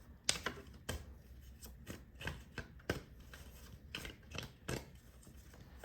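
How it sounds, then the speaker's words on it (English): Tarot cards are shuffled by hand close up, a series of quick papery riffles and slaps in an uneven rhythm, soft and alone without talk. "first I'm going to shuffle and we'll see what cards come out"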